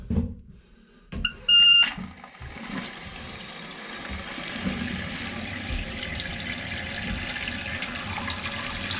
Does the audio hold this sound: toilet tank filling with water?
yes